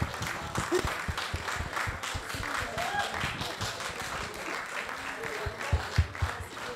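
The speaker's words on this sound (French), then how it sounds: "je voulais vraiment qu'on t'applaudisse" An audience at the Benkadi festival applauds with steady, continuous clapping at moderate loudness, and a few sharper claps stand out near the end.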